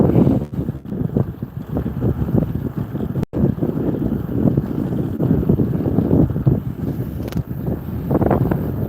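A boat cuts across open water as wind buffets the microphone, a loud, gusty roar with splashing hull noise rising and falling continuously, no voices heard.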